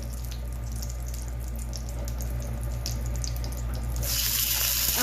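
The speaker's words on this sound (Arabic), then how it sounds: "لازم نسمع الصوت الجميل ده اول ما نحط شرايح اللحمه بتاعتنا" Sliced steak sizzles in hot corn or sunflower oil on a grill, a steady close hiss with crackle over a low hum, getting louder near the end, no talk.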